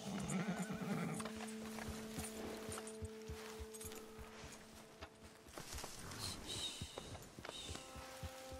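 A horse in Red Dead Redemption 2 whinnies loudly at the start, then hooves clop and shuffle at close range in an uneven walking rhythm, with occasional tack clinks and a low background drone.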